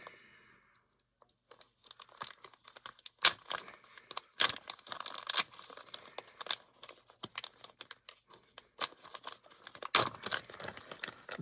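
Crinkly plastic package of Berkley fishing baits being torn open by hand, with irregular close crackling, rustling and tearing bursts after a quiet start.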